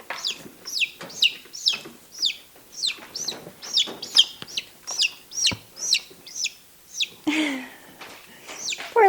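A frightened young chicken, a dual-purpose chick, gives repeated sharp clucks and squawks at an uneven, agitated pace while being caught. The calls are close and loud with no talking.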